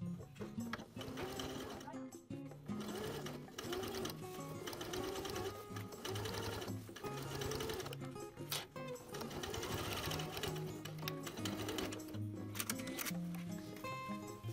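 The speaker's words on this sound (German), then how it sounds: "Vom Schlitzende steppe ich mit 10 mm Nahtbreite den Untertritt fest." A sewing machine stitches the fly underlap of a pair of jeans, a fast, steady mechanical whirr with rhythmic clatter, running close and continuous with brief pauses, while a voice speaks over it.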